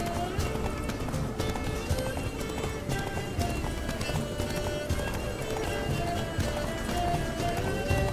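Roach, Geralt's horse in The Witcher 3, gallops in a steady, loud clip-clop rhythm of hooves that runs the whole way through, with a neigh breaking in and game music and effects layered around it.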